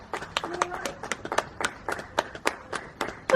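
Neighbours clap at 8 o'clock for carers during the coronavirus lockdown. Sharp handclaps come in an uneven rhythm from nearby, with faint voices in the background.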